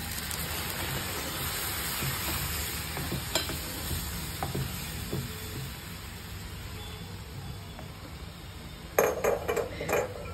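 Milk goes into a pan of sago fried in ghee for jaggery kheer, a continuous close sizzle and bubbling with occasional spoon stirs, then a louder burst of clatter near the end.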